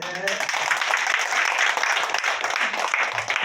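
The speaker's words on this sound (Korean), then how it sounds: "박수 주세요" A church audience breaks into steady, dense applause, many hands clapping at moderate distance and holding evenly.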